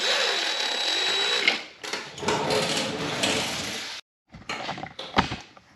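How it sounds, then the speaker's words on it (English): A Phillips head screw backed out of a Kawasaki VN1700 motorcycle saddlebag with a power driver, steady whirring bursts close by, broken by short pauses and a few clicks. "There's a Phillips head screw on there on the side, so I'm going to take the screw out."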